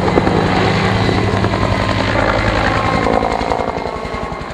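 Helicopter used for heli logging, a loud, steady close rotor thrum with rhythmic blade chop and engine whine, holding strong throughout and easing off slightly near the end.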